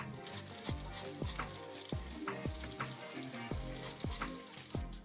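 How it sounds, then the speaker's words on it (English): Pork sears in an Instant Pot with a loud, steady sizzle, broken by repeated short knocks or taps about every half second, and no voices. "We're gonna sear it for a few minutes until it gets a nice, dark, crusty sear"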